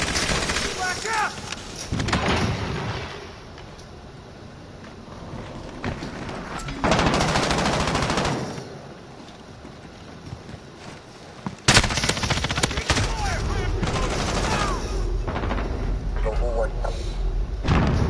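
Machine gun fire rattles in a Call of Duty Warzone team deathmatch, dense bursts of automatic shots and thuds with loud stretches and quieter gaps, mixed with game sounds.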